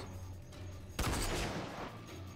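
In the game RAGE, played as roleplay, a single loud sniper shot cracks after a quiet moment and trails off in a broad, fading echo.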